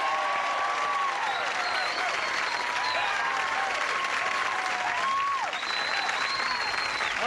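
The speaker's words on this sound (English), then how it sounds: "Let's have a brisk round of applause" A television game show studio audience claps steadily throughout, a thick continuous round of applause greeting the stars while an announcer's voice carries over it.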